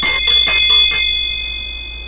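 A hand bell of the kind rung at Catholic Mass, shaken in four or five quick bright rings that then fade into a long ringing decay, loud and close with no talk.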